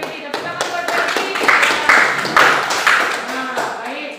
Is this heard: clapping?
yes